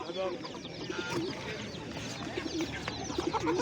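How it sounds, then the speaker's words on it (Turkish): Pigeons cooing among other fowl at a Turkish poultry market, soft repeated coos over a busy background of clucking birds and people talking nearby. "Evet, pazarımızda güvercinlerimiz de var."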